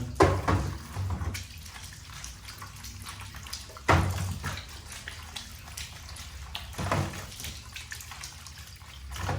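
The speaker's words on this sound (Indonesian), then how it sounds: "langsung saya cuci dari pancuran." Peeled cassava is rinsed under a running water spout, with a steady rush of flowing water broken by splashy surges as the roots are handled. No one speaks.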